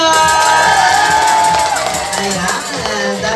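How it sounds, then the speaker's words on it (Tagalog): A crowd cheers and whoops loudly at a first birthday party, with shouting voices layered over background music throughout. "at isang malakas na palakpakan na may kasama"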